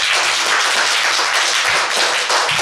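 Children in a primary school classroom in Uttar Pradesh clap together in a loud, dense, continuous burst of applause that stays close and steady throughout.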